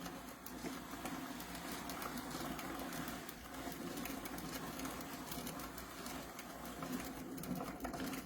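A hand-cranked drum carder blending strips of dyed wool, giving a steady continuous whirring and rasping hum with a faint rhythmic texture, close and even throughout with no voices.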